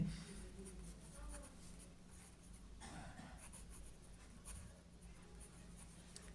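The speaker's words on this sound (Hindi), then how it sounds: "तो इनिशियल डिपॉजिट के लिए पहले हम टोटल डिपॉजिट वाले फॉर्मूला लिखते हैं अच्छे से।" A pen writing a formula by hand on paper, soft scratchy strokes in quick bursts, close and quiet against low room noise, with no talking.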